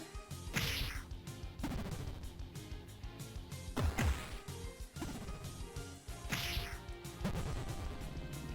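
A sword shatters in an RPG video game: sharp crashing, smashing hits land repeatedly over loud, driving battle music, several impacts spaced a few seconds apart.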